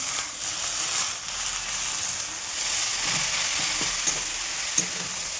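Eggplant and bathua greens frying in a pan, a constant loud hiss of sizzling oil, with soft spatula stirring and a few light clicks toward the end.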